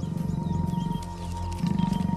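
Wild leopard snarling and growling as it attacks a python, a close, loud run of rough pulsing snarls that swells again near the end, with no other voices.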